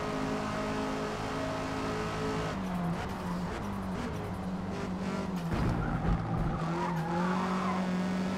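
Race car tires squealing in the Forza Motorsport video game during an online ranked race, a sustained high screech over a steady engine drone that swells and wavers as the car is pushed hard through a corner.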